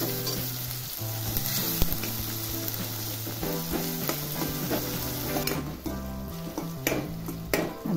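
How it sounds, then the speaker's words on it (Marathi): Tomatoes frying in a pan for a Bhogi mixed vegetable dish, a continuous close sizzle with stirring scrapes and occasional utensil knocks, no talk. "आता टमाटर चांगला शिजवून घ्यायचा आहे"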